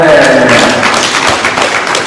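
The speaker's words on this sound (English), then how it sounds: "Come on, clap for yourself for coming." A conference audience applauds loudly, a dense close wash of clapping that continues for about two seconds with voices mixed in.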